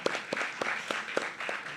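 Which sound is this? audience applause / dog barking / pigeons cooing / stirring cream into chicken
audience applause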